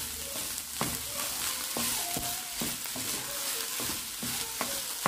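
Fried rice with instant noodle seasoning being stir-fried in a pan, a steady sizzle punctuated by repeated rhythmic scrapes and clanks of the spatula, close and moderately loud.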